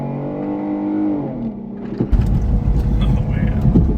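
A lifted 2017 Jeep JK on 42-inch tires revs up with a rising whine, then gives way to rough, loud road noise as it accelerates on a winding road.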